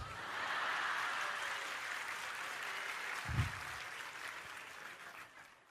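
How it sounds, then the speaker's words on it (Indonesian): An audience at an Indonesian Islamic sermon gives a steady round of moderate applause that swells early, continues with a brief low thump midway, then fades out toward the end. "Kalau mau tepuk tangan, kalau ragu nggak usah."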